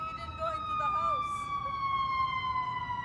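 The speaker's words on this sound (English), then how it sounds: "Here come ambulance, fire department." Ambulance and fire engine sirens wail continuously, arriving at a car crash scene, steady and fairly strong over a low rumble of outdoor background and occasional voices.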